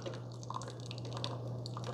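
Keurig K-Supreme Plus single-serve coffee maker dripping brewed coffee into a cup, a soft continuous trickle with small irregular drips over a faint steady machine hum.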